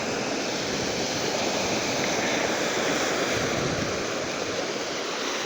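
Sea waves wash steadily onto a beach in Lakshadweep, a continuous loud surf roar with wind buffeting the microphone throughout.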